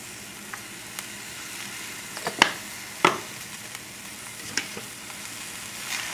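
Olive oil sizzling in a pan for a black bass soup with leeks, a steady low hiss broken by a few sharp crackles and pops, close and moderately quiet with no talking.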